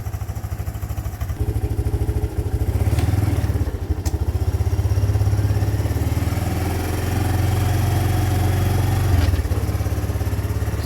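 A 2005 Kawasaki Bayou KLR 300 quad with five-speed and reverse runs close up, its single-cylinder engine thumping steadily and loudly with a rhythmic chug and a slight swell in revs, no talk.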